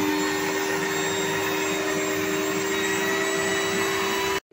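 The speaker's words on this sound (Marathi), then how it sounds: "आता आपण हे परत बीट करून घेणार" An electric beater whips ice cream premix in a large pot, a steady, loud motor whine with a constant hum that runs unbroken and then cuts off abruptly at the end.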